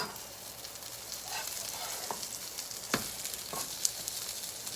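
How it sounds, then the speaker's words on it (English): Panini sandwiches sizzle in a hot pan while being pressed down: a steady, close crackling hiss with a few sharp pops and small clicks. "Pressing them will give them that nice toasted look and that panini feel."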